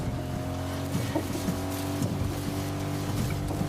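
Car engine driving in a video game, a steady tonal drone with layered harmonics holding at an even level throughout, with no talk over it.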